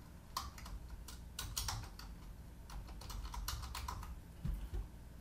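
Someone types a name on a computer keyboard, a quick irregular run of close, light key clicks with brief pauses between bursts.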